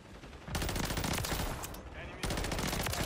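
SMG fire in a video game, two long, loud, close automatic bursts with a short pause between them, alone and without talk.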